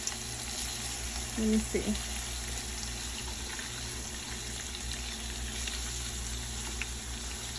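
Rockfish frying in a pan, a soft steady sizzle under occasional close speech and a few light pan clatters.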